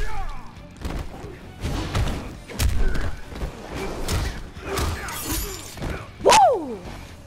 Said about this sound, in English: I want to test out this fatality on you.